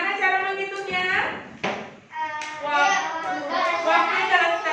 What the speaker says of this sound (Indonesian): Tepuk waktu Ahmad.